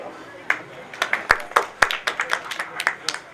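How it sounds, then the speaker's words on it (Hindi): Applause at the inauguration ceremony of a new branch: several sharp claps building into a loose patter of clapping from a small crowd nearby, with speech over it. "वाह, जोरदार तालियां"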